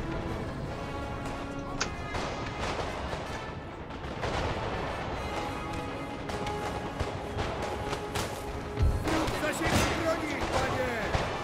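Musket volleys and artillery fire in Napoleon Total War, a busy stream of overlapping gunshots and distant booms under near-continuous talking.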